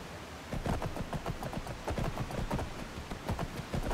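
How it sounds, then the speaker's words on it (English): Horse hooves clip-clop in steady rhythm in Skyrim, a continuous run of close, even footfalls with little else around. "You are truly a horse of Skyrim."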